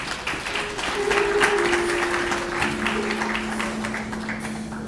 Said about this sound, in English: Can we just please give them the hands of applause?